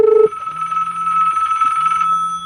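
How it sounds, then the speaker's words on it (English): A telephone rings loud and close with a steady electronic tone that holds for a couple of seconds after a brief higher beep at the start, heard alone without talk. "sometime the phone will ring"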